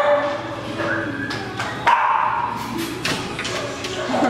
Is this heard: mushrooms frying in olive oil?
no